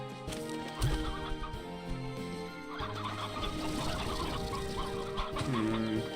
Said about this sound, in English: Come on, pick up the chickens.